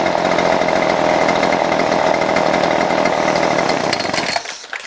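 A petrol line trimmer engine runs close and loud with a steady, buzzing two-stroke drone for over four seconds, then cuts out; the trimmer has hard-starting and stalling trouble, and no one talks.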